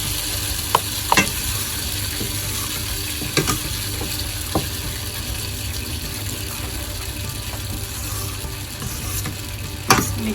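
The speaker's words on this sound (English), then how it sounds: "Stir the pan with the curry. Just give it a very good boil." Pakora kadhi curry with tadka and whole chilies bubbling in a pan, a continuous close sizzling, bubbling hiss with occasional sharp clicks and scrapes of a stirring utensil, no talk.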